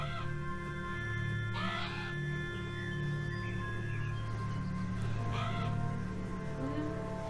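In the video game Beyond Eyes, a crow gives two distinct rasping caws several seconds apart, heard over a steady ambient game hum with faint tonal layers.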